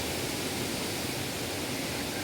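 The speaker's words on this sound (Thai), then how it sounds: "อันนี้คือน้ำตกเจ็ดสาวน้อยชั้นที่สอง" Jed Sao Noi waterfall in Saraburi, its second tier, gives a steady, dense broadband roar of rushing water, close and continuous with no voices.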